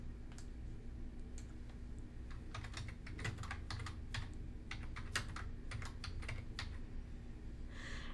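Soft, quick keystrokes tap on a computer keyboard in irregular bursts, faint and close over a steady low hum of room noise.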